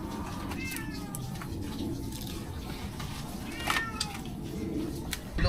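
A cat meows a few times close by in a home setting, short rising calls standing out over steady background noise and faint voices.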